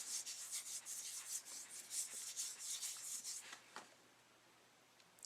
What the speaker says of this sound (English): once you rub it into the skin